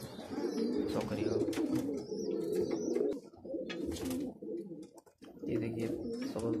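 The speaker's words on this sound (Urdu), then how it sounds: "یہ بہت اچھا بہت بار کا اڑا ہوا کبوتر ہے" Pigeons coo steadily and close by, blue, green and dobaz kabootar pairs, with a brief lull midway before the layered cooing resumes.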